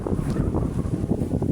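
Strong wind roars and buffets the microphone in dense, continuous gusts outdoors while a kite is being flown.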